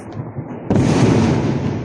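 Wedding fireworks going off some way off: a faint crackle, then one loud deep boom that rolls on into a long rumbling tail.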